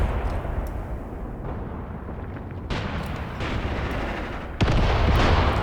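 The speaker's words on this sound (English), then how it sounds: "My anti-tank guns on the hill are now engaging the KV." Anti-tank guns on a hill fire on a KV tank in the war game Graviteam Tactics, two or three sharp booming shots cutting through a low rumbling battlefield background.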